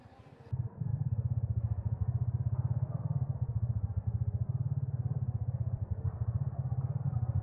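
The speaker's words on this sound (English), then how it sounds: "That was the sound of an engine revving." An engine revs and idles in a low rumbling, fast-pulsing drone, muffled and steady for several seconds, heard as a teaser sound for a new Rec Room game.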